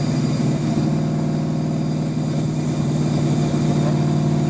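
A 1993 Ford Mustang Fox body built to around 1,000 horsepower, driving on the road in third gear with a loud, steady, deep engine drone that holds throughout.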